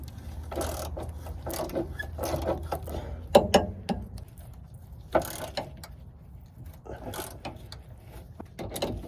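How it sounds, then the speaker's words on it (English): A 3/8 ratchet with extensions and a 12 mm socket works a bolt loose under a Toyota Celica, giving scattered close metallic clicks and knocks among irregular clattering handling noise. "I got my 3/8 ratchet with my extensions and my 12 mil. So just go ahead and break that loose"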